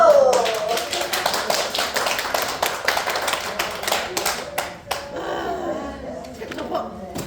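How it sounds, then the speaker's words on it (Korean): People in a caregiver training class clap at the end of a lesson on case meetings, a lively burst of close hand claps that thins out into scattered claps, with voices talking over and after it. "박수"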